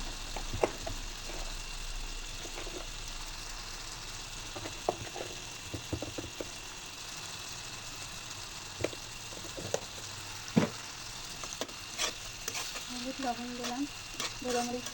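Stirring in a cooking pan where turmeric, salt, coconut and nuts fry together, with a steady soft sizzle broken by scattered scraping clicks of the spoon.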